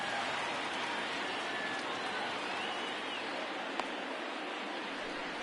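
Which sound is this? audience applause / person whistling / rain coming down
rain coming down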